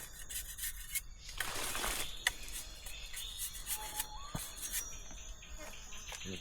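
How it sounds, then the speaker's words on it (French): Bark is scraped from a sugarcane stem with rough, irregular scratching strokes, close and moderately loud, with a few sharp clicks and faint outdoor background sounds. "On enlève l'écorce comme ça."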